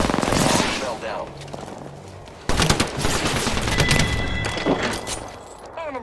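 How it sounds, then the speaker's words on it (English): Rapid automatic gunfire and thumping impacts in the Apex Legends video game, loud bursts that drop off and then return, mixed with in-game voice callouts and a person speaking. "Taking fire."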